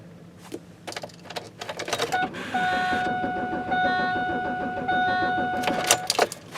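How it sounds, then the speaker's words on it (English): Car engine turning over on the starter without catching, a steady churning crank lasting several seconds, close and fairly loud, with a thin whine and clatter over it and brief knocks before and after. "it cranks over better than it ever has"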